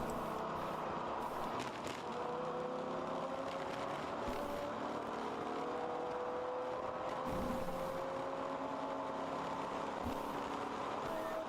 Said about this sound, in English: you can hear the cars coming by the start-finish line here